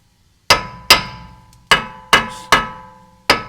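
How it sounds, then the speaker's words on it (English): Six sharp metallic hammer taps ring out on a rusty rear brake rotor of a Jeep Renegade, each with a brief ringing decay, spaced irregularly, close and loud with no talking. "get our hammer, and we are going to tap"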